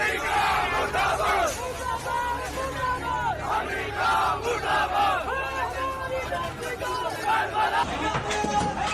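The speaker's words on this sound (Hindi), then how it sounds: "इस दौरान अमेरिका मुर्दाबाद, इजराइल मुर्दाबाद और ईरान मुर्दाबाद के नारे गूंजते रहे" Dense crowd of protesters in Islamabad chanting and shouting slogans together, a loud continuous roar of massed voices with rhythmic rising chants throughout.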